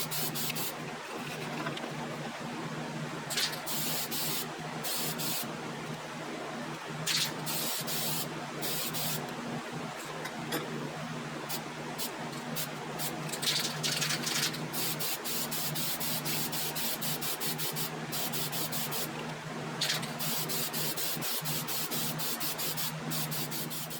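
Spray finish being applied in a workshop, a steady hiss running nearly the whole time with brief louder bursts and pauses as the gun is triggered, no talking.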